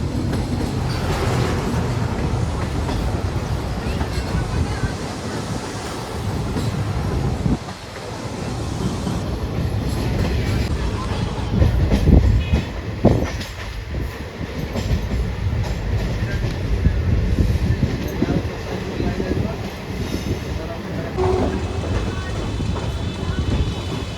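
A passenger train rumbles along the tracks near New Farakka Junction, India, with continuous rattling and clatter, brief squeals and a high whine in the middle, loud and close throughout.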